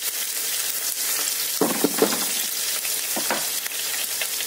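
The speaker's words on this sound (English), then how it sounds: "I'm just gonna fry it. The onions a little bit." Onions sizzle steadily in a pan for frying rice, a loud continuous hiss with a few scraping stir clicks partway through and no voices.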